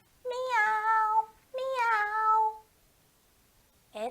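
A cat gives two drawn-out meows in quick succession, then a short third one after a pause, clear and close against a quiet background.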